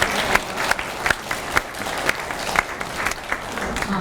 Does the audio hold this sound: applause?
yes